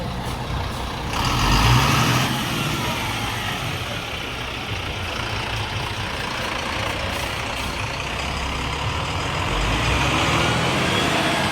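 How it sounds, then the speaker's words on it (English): Transfer buses run along a street in Benidorm, a steady loud rumble of diesel engines with passing traffic noise throughout and no talking. "A couple of transfer buses here."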